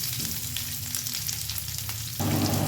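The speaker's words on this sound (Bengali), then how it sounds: "এবারে দিয়ে দেব কেটে রাখা পেঁয়াজ।" Chopped onions and curry leaves fry in hot oil with a soft, steady sizzle, swelling louder near the end as more goes into the pan.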